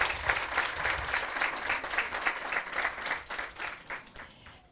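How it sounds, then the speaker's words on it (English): Applause for school staff at an elementary school groundbreaking ceremony, a fairly faint crowd clapping with audible individual hand claps in an uneven patter that thins out near the end. "Can we give our staff a round of applause?"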